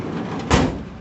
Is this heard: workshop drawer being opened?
yes